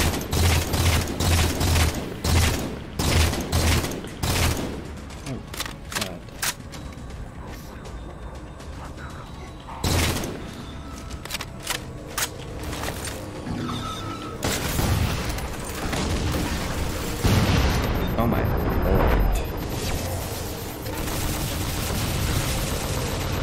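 Rapid gunfire bursts and booming shots from combat in the Halo MCC video game, loud and dense in the opening seconds, then continuing in scattered volleys over a constant rumbling mechanical din.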